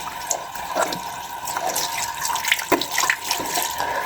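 Cold tap water runs steadily into a sink during a face wash in a chilly Saudi winter, with intermittent splashes and drips close by and no talking.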